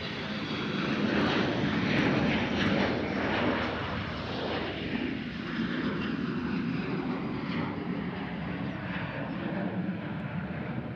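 A Southwest airliner at Nashville International Airport's observation area roars steadily for the whole stretch, a loud, broad jet-engine rumble that swells slightly early on, then holds with no voices over it.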